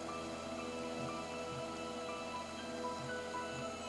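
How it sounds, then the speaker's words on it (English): Rain on the title screen of the video game Ben Jordan VIII, a faint, steady hiss of rainfall with soft, scattered drop sounds, no voices over it. "I like the rain."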